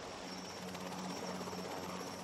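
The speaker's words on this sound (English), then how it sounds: "For many years, the Windsors relied on the bespoke Royal Wessex of the Queen's flight" A Royal Wessex helicopter of the Queen's Flight drones with a steady rotor buzz and rhythmic throbbing, faint and continuous throughout with no voices.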